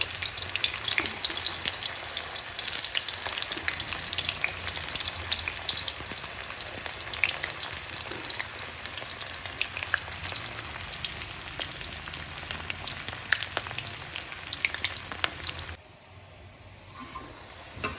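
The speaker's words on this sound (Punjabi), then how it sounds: "ਹੁਣ ਕੜਾਈ ਵਿੱਚ ਸਾਡਾ ਤੇਲ ਗਰਮ ਹੋ ਗਿਆ ਇਹਦੇ ਵਿੱਚ ਅਸੀਂ ਕਰੇਲਿਆਂ ਨੂੰ ਫਰਾਈ ਕਰ ਲਵਾਂਗੇ" Bitter gourds (karela) fry in hot oil in a wok with a steady, dense crackling sizzle that holds for most of the stretch, then drops away abruptly near the end.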